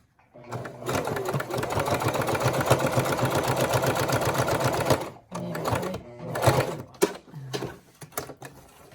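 A Singer Classic sewing machine stitches a pant hem with a fast, even mechanical chatter for several seconds, then stops and gives a few short bursts of stitching with small clicks between them.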